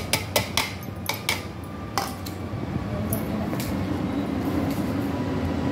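Lumps of jaggery and metal spoon clinks go into a pressure cooker holding cooked dal, a few sharp taps and knocks at first, then a steady low kitchen background.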